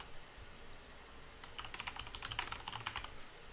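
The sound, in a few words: typing a password on a computer keyboard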